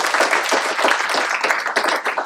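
A short stretch of dense, fast hand clapping from an audience at a university event near Paris, steady and fairly loud throughout with no talk over it.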